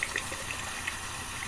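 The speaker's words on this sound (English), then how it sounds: "I will fill this up just before the video starts with some hot water from the tap" Hot water running steadily from a tap while filling a bowl for wet-shaving lather: an even, rushing splash with no breaks, moderately loud and close, with no voices.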